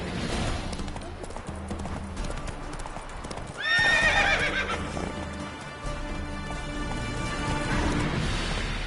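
A horse gallops with steady, rhythmic hoofbeats and lets out a loud whinny partway through in The Witcher 3 video game, with game music and effects underneath.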